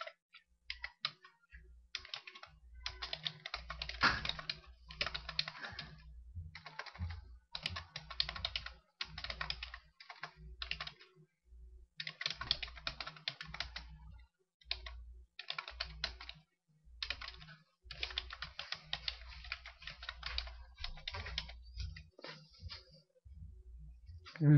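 Keys tapped on a computer keyboard while entering text in Photoshop CS3, in irregular bursts of quick, light clicks separated by short pauses, close and fairly quiet with no one speaking.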